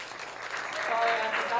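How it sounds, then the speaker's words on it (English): An audience at a magic show applauds with a steady wash of many hands that swells slightly and holds, with a voice faintly over it. "Round of applause for these people"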